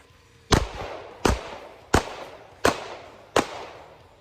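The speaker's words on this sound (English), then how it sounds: "I'm going to attempt to engage this bad guy with 5 rounds" Five loud, sharp pistol shots are fired at a target in an evenly spaced string, each crack followed by a short decaying echo.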